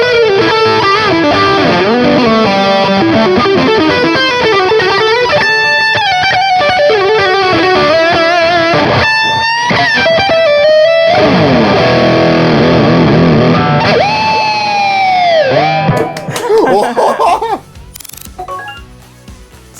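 Electric guitar played through an Envy pedal, with delay and reverb on the send-return loop: loud, sustained distorted notes and bends with swelling trails and pitch swoops, then thinning into sparse echoing tails near the end.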